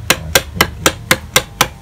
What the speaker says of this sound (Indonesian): niki yang tadi digaris itu sudah dimulai dipahat